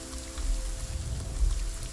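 Rain falls steadily in the horror video game Visage, a soft continuous patter with low rumbling underneath and a faint tonal hum, heard alone at moderate level.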